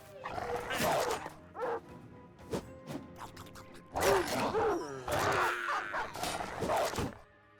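In the Battle Brothers video game, a war dog barks and yelps in repeated bursts amid combat impacts and clashes, loud and close throughout.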